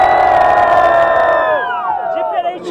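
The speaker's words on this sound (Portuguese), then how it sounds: "por ordem de rima, quem gostou das rimas do JP faz muito barulho" A crowd at a Brazilian student rap battle cheers and shouts loudly after being asked to make noise for a rapper, a dense sustained roar with whoops that fades slightly toward the end.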